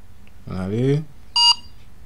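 A short electronic beep from a phone, one brief tone following a single spoken word, in an otherwise quiet room.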